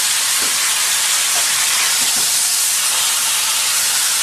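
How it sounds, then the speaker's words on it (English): Pork chops sear in a hot pan with a loud, steady, close hiss and sizzle throughout. There is no talk. "you hear those pork chops just searing away over here"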